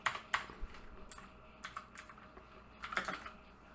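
Quick bursts of keystrokes on a computer keyboard, close and fairly quiet, in short irregular clusters separated by brief pauses while code is being written.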